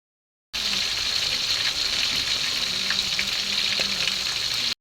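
Balanak fish frying in a pan, a steady crackling sizzle with scattered pops and spits, close and continuous after a brief silent start, ending abruptly.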